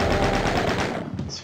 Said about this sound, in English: Shot in the face by that shotgun.